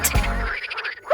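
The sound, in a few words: frog croaking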